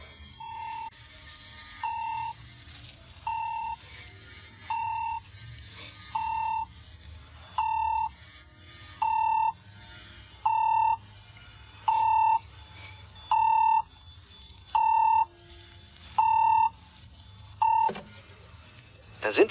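A telephone in a radio crime drama rings with a steady electronic beep, about a dozen evenly spaced pulses repeating every second and a half over a low background hum.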